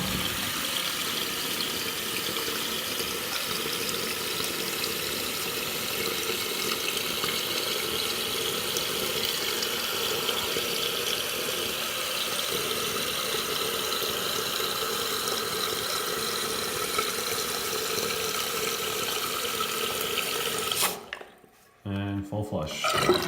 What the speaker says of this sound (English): So this is the half flush.